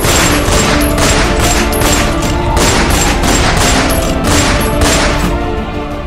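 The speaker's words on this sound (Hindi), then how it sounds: "स्पिंस के ऊपर गोलियों की बौछार कर दी" A dense, continuous barrage of gunfire roars without pause, loud and overwhelming, rapid shots blurring into one another.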